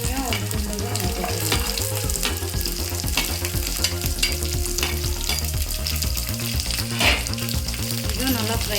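Ginger and onions fry in a pan for Kerala-style fish curry, a loud, continuous sizzle with stirring clatter throughout.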